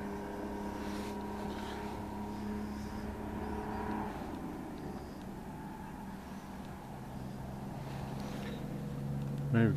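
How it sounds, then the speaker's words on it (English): A logging truck passes at a distance on a rainy-looking day, a steady low engine rumble sitting under wind noise on the microphone and holding level, with a brief louder swell right at the end. "Logging truck."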